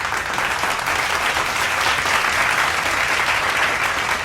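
Loud, dense applause from a crowd claps steadily and continuously, a played-in sound effect triggered by a stream redeem.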